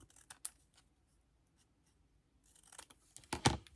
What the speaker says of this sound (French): je viens couper ce qui sera en trop